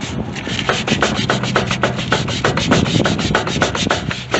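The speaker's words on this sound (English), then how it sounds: "we're just smoothing off a little of that top rust" 320 grit sandpaper rubs rust off a metal shaft on a Yard Machine 14 HP lawn tractor in quick back-and-forth strokes, a rhythmic, close scratching of about ten strokes with no talking.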